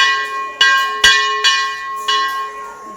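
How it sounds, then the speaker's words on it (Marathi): A temple bell at a Balaji temple is struck five times at uneven intervals, each loud metallic clang ringing on and fading before the next, with no talk. "घंटानाद आलेले बघून हे करतायत."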